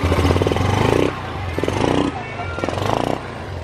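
A Yamaha Xeon scooter engine, recently reassembled after running rough, starts and idles with a pulsing putter up close. Someone talks over it throughout.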